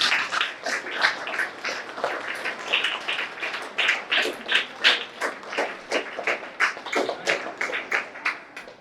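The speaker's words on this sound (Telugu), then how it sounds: "మనందరం మన చప్పట్ల ద్వారా వారికి థ్యాంక్ యూ" An audience at a Telugu story-writing workshop claps steadily to thank a guest, producing a dense run of sharp, rhythmic hand claps throughout.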